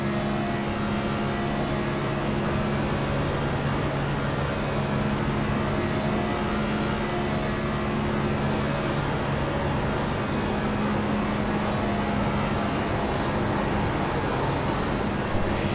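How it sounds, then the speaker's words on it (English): A NASCAR Next Gen race car in iRacing roars at sustained full throttle as it slides up the track, a loud, steady engine drone holding without a lift. "Hear the car sliding up the track."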